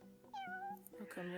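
A cat meowing during a Final Fantasy XV quest where it has to be given a fish, two rising-and-falling meows one after the other, clear and close, with a voice over them.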